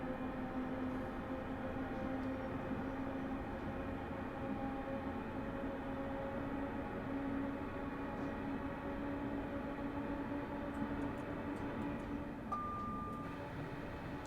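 A train running along the Glasgow to Dunblane route in the video game Train Sim Classic gives a steady rumbling drone with a constant engine hum, continuous and fairly loud with no speech.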